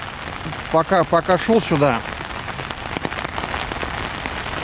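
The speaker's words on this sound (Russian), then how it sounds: "Сильный дождь, но я сегодня в какой-то веке я сегодня взял зонтик. Сижу под зонтом." Heavy rain drumming on an umbrella overhead, a dense close patter that runs throughout while someone speaks briefly near the start.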